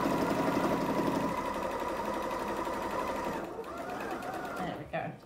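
A sewing machine stitches a second row on a tote bag, its fast mechanical whirr running close and steady before slowing and stopping near the end, a voice faintly under it.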